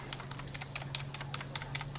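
Fingers type quickly on a Logitech mechanical keyboard, producing a close, steady patter of crisp key clicks and clacks with a faint low hum underneath and no talking.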